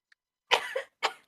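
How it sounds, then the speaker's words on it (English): Two sharp, close coughs in quick succession, the first a little longer and rougher, with silence around them. "coughing, not sneezing."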